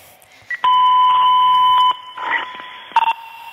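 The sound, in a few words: fire dispatch alarm tones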